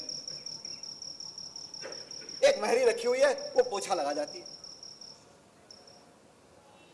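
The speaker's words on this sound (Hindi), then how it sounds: "ये रात रात भर मेरे दिमाग में ऐसी बजती है झींगों की आवाज" Crickets chirp in a steady high, continuous trill through a night scene in a stage play, while someone speaks over them in the middle.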